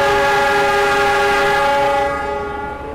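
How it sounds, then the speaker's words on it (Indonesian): The Sancaka passenger train departing Surabaya Gubeng station for Yogyakarta sounds a loud, sustained multi-tone horn close by, then the blast eases off and fades slightly over the last second. "kereta api Sancaka sekarang diberangkatkan kembali dari stasiun Surabaya Gubeng tujuan stasiun Yogyakarta"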